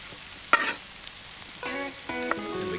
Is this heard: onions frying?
yes